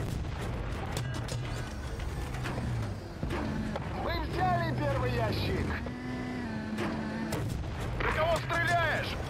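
Gunfire and heavy blasts rumble through a Battlefield: Bad Company match on PS3, with repeated booming detonations, rattling shots and engine noise under radio-style voices.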